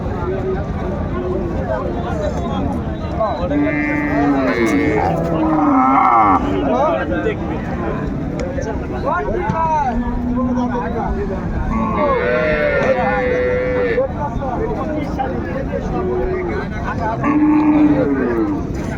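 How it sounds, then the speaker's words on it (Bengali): A cow and calf moo repeatedly at Raniganj cattle market, long deep lows from the cow and higher-pitched calls from the calf, amid steady crowd bustle and people talking nearby. "এখানে যে গাভী বাছুরটি দেখছেন"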